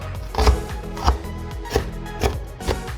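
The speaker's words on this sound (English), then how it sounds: "You can just like cut this huge pile of onion into whatever size you want" A knife chops through a huge pile of raw onion on a cutting board, landing about five dull, thudding strokes at an uneven, unhurried pace, close by and with no talking.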